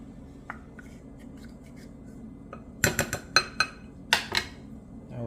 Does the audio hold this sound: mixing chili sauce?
yes